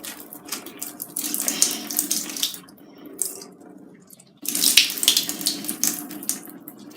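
Water dripping and splashing from a squeezed water-filled toy, a steady close trickle that swells in two bursts, fairly loud with no voices.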